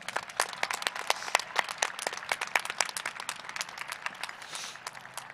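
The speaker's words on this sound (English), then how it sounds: "Let's give them a round of applause." A high school graduation audience claps for a senior performance. The applause is moderately quiet and steady, with crisp individual claps standing out within the crowd's patter.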